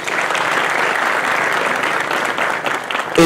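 A conference audience at an engineering school bursts into sustained, loud applause, a dense even wash of clapping filling the whole moment without letup.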